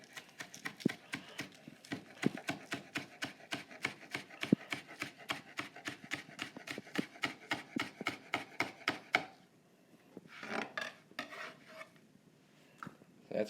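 A knife chops green onions on a board in quick, even strokes, around thirty crisp taps at a steady rhythm, close and moderately quiet, then a few looser scraping and handling sounds.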